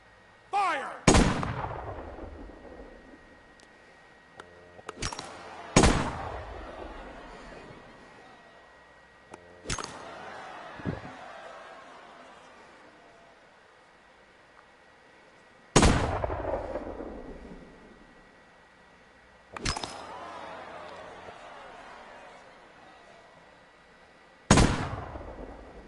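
Six sharp gunshots ring out at uneven intervals in a Penn and Teller VR video game, each a loud crack followed by a long echoing tail, with faint background tones between them.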